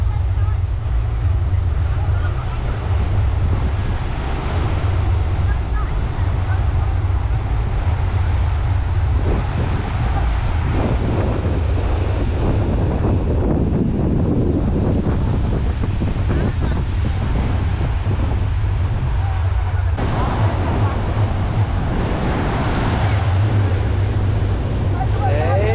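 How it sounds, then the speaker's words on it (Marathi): Surf breaking along Candolim Beach in Goa in the evening, a steady continuous wash of waves with strong wind rumbling across the microphone, and a few voices faintly audible in the background. "हे कॉन्दोलिम बीच आहे"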